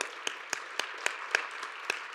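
Church congregation at a Sunday young-adult worship service applauding to welcome newcomers; steady, fairly quiet clapping with a few sharper claps standing out, no talk.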